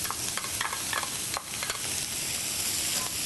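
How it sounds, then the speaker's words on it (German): Onions, yellow zucchini and peppers fry in a pan with a steady close sizzle, broken by several scraping stirs of the vegetables. "und lassen das ganz schön anbraten."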